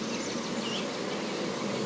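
Honeybees buzzing close around a queen cage during queen release, a steady dense hum holding evenly for the whole moment with no voices.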